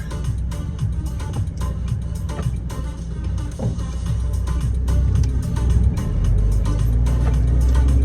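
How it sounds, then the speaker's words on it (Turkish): Heard from inside a moving car on a road, another vehicle approaches from the left, its engine and tyre rumble swelling slowly over the steady road noise, with no talking. "soldan da araba geliyor"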